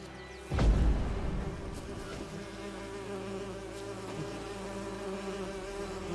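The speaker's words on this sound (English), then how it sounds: "A swarm of bees, you can use R to drive them off for a while" A swarm of bees drones steadily near a hive in The Witcher 3, a layered buzzing hum that follows a low thud and carries on at moderate, even loudness.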